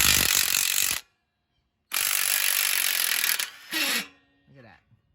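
A ratchet with a 10 mm hex bit backs out the swing arm nut on a 1983 Honda Shadow VT750C, making two loud, sustained whirring runs split by a short silence, then briefer, fainter mechanical rattles.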